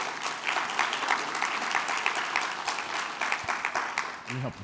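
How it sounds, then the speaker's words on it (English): An audience applauds as two business co-owners come onto a stage, steady dense clapping for several seconds, with a voice breaking in near the end. "Please give them a round of applause"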